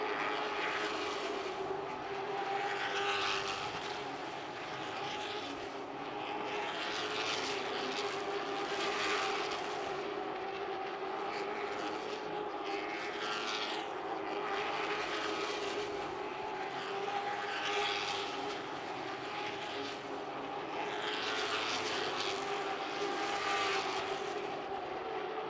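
Limited late model race cars roar around Newport Speedway in a pack, engine noise swelling and fading in repeated passes from mid-distance, a constant droning wall of sound with no talk.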